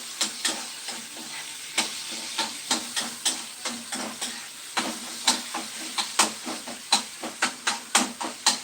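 Drumsticks being sautéed and stirred in a pan for sambar: a steady soft sizzle punctuated by regular scraping strokes of a spoon against the pan, close and with no talking.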